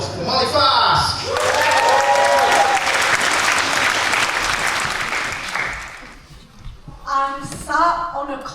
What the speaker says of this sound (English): Please give a massive round of applause for Molly Fasc!